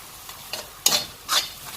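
Very hot chilies broken into pieces and stirred in a frying pan with a spatula, giving three short scraping swishes with faint sizzling between them, close and clear with no talking.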